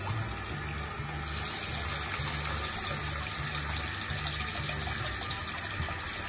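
Tap water running steadily over and around a ping pong ball held in the stream, a continuous close splashing gush with a low hum underneath throughout.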